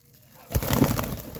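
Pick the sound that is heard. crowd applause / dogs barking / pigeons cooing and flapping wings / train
pigeons cooing and flapping wings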